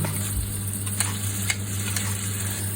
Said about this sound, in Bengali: এই যে ভাজি খোলা পেঁয়াজটা আমি দিয়ে দিলাম তারপরে এই যে মরিচ দিয়ে দিলাম